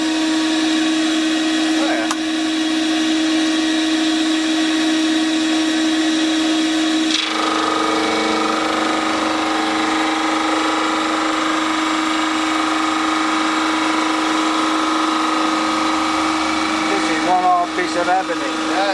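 A power sander with a 100 grit disc works an ebony fretboard for a Trace Elliot T bass in a workshop, giving a continuous loud whirring grind throughout, with people talking over it.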